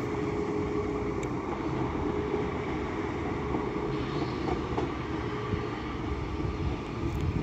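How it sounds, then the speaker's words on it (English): A Class 331 electric train from Liverpool Lime Street pulls into Wigan North Western station, a steady low rumble and rail hum filling the platform with no speech. "now coming in is 331 110"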